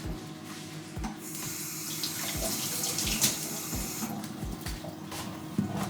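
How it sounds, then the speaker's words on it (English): Peeled vegetables for a Jamaican Saturday soup rinsed under a running kitchen tap, a steady hiss of water splashing into the sink with light knocks and clatters as pieces are turned, close and continuous. "You're going to wash these off"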